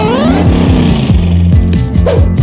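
A car engine revs loudly and close, climbing and dropping in pitch through several quick gear changes as it drives hard.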